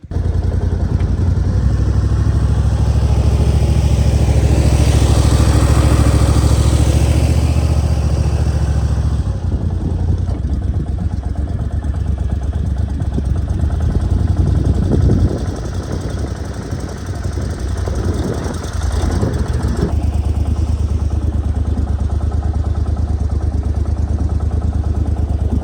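Boat engine running during a public-land hunting trip, a loud, steady low mechanical drone with idling rumble that shifts in pitch partway through, close to the microphone with no talk.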